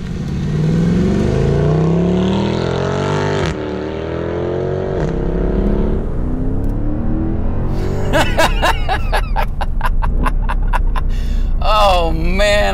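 A Mercedes W204 C63 AMG V8 engine rumbles and revs, rising in pitch as it accelerates, loud and close, followed by a burst of sharp popping and crackling from the exhaust.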